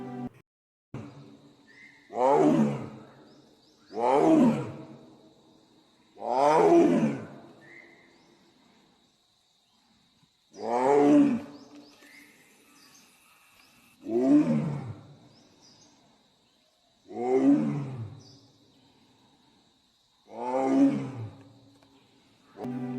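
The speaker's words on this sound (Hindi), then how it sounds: "तभी जंगल के कोने से बाघ के दहाड़ने की आवाज सुनाई देने लगी।" Tiger in the forest of Satpura Tiger Reserve, Narmadapuram, roaring in a steady series of about eight deep, loud, drawn-out calls spaced a couple of seconds apart, with a thin high insect-like drone in the background.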